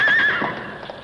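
A horse gives a loud, close whinny with a high rising-then-falling cry, joined by a few hoof clops on the ground near a cave opening at night.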